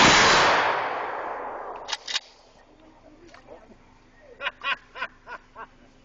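A shotgun volley is fired as part of a 21-shotgun salute: one loud, close blast opens and rings away over a couple of seconds, then voices chatter and laugh.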